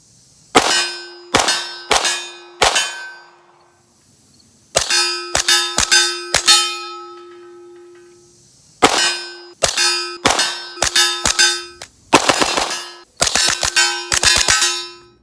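Rapid strings of 9mm shots from a PDW short-barreled rifle, fired with and without a Dead Air Mojave 45 suppressor, ringing off steel targets with sharp metallic clangs in bursts of three to six, loud and close.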